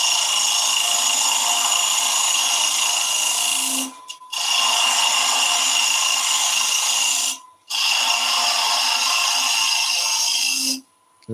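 A wood lathe spins a German smoker while a tool cuts a recess for the base, producing a steady high scraping whine in three long passes separated by brief pauses.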